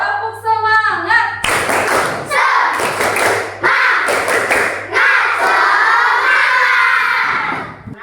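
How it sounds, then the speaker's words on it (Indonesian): Indonesian schoolchildren in a classroom perform a rhythmic spirit clap, loud bursts of group clapping and thumps in a patterned sequence mixed with shouted voices, following a short sung or chanted phrase at the start. "Tepuk semangat"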